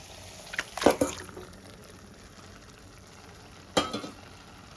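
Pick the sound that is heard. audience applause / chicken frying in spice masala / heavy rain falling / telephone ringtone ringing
chicken frying in spice masala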